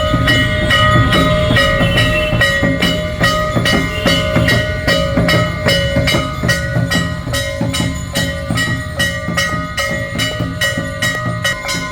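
A train passes below a road bridge near a Mahakali temple in Haridwar, giving a continuous, loud rumble with steady rhythmic clatter of wheels throughout, close by and without talk.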